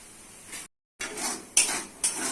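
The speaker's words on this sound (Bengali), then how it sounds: "মশলা ভালো করে কষে নিতে হবে।" Ground turmeric, chilli, cumin and coriander with salt sizzle in a pan while a metal spoon scrapes and clinks in short strokes, close and loud, with a brief silent gap and no talk.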